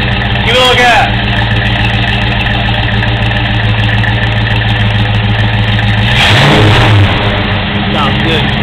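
Stick-shift Fox Body Ford Mustang coupe engine idling steadily, with two sharp revs, one near the start and one toward the end, close and loud.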